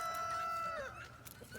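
A rooster on a chicken farm gives a single clear crow up close, a drawn-out call that bends downward at the end, with faint clucking and quiet background noise after.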